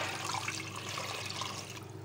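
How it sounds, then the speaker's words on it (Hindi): Water poured steadily from a glass into a cooking pot holding half a kilo of raw meat for Afghani pulao, a continuous close splashing gush with no talk. "इसमें मैं डालूँगी पानी, ये तकरीबन 3 गिलास पानी है"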